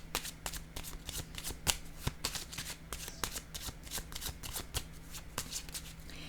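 Oracle deck shuffled close to the microphone, a steady stream of soft papery riffles and slaps at a low level, with no voices.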